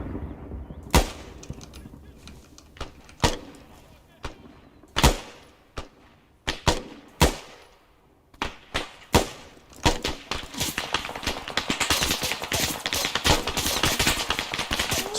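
Arma 3 infantry gunfire during group training: sharp, loud single shots and short bursts ring out near and far, building into sustained continuous firing toward the end.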